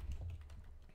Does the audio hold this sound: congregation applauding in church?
no